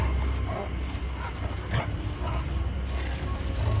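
A dog barks and yips amid eerie ambience in the video game The Casting of Frank Stone, the calls sparse and mid-distance over a steady low background.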